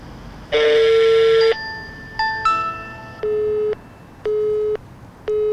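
Telephone busy signal after an unanswered call to a manager: one long steady tone, then a brief garbled tone, followed by a regular series of short, loud beeps with gaps between them.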